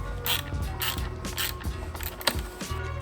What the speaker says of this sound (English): I'm using a 10mm deep socket and a 10mm ratchet spanner